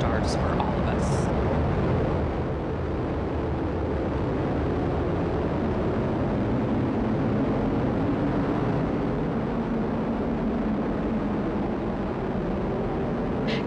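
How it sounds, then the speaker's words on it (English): An Atlas V rocket carrying the Starliner spacecraft lifting off, a continuous loud, broad roar and rumble that holds steady throughout, with a voice talking over it. "liftoff of Starliner and Atlas V"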